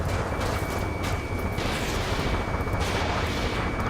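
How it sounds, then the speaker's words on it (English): Gunfire in the combat flight game Ace Combat 7 during a city battle, a dense, loud stream of rapid shots blending into a continuous rumbling barrage. "Gunfire and the roar of jets echoing through the streets."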